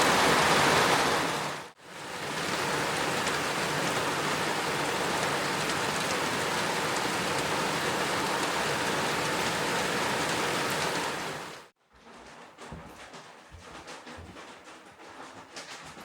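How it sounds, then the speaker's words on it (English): Heavy rain pours steadily outdoors at a bush hut in the Hunua Ranges of New Zealand, a dense unbroken roar that briefly cuts out near the start, then stops abruptly and gives way to quieter dripping and scattered patter. "We need the rain, but yeah, I don't want to do wet tracks"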